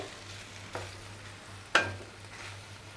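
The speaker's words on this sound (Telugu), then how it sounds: "ఇప్పుడైతే నేను ఉప్పు కారం మసాలా అన్నది వేసుకుంటున్నాను" Simmering okra pulusu, a tamarind stew, bubbles softly in a pot as salt and chili powder go in, with a low steady hum, a light clink, then a sharper scrape or tap of a spoon, no talking.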